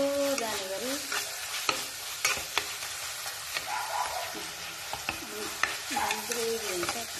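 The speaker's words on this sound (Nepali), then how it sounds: "यो टमाटरले चाहिँ एकदम लटक्कै पार्नुपर्छ। टमाटर पाक्नेगरी पकाउनुपर्छ।" Tomatoes frying in a pan while being stirred: a soft, steady sizzle under repeated scraping strokes of the spoon, fairly quiet and close.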